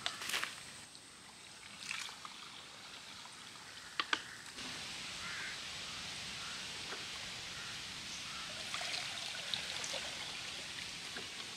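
Water pours steadily from a pressurized source at a survival campsite in heavy rain, a faint, even rushing that continues throughout with a few brief knocks early on.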